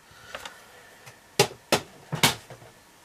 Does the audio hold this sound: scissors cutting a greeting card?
yes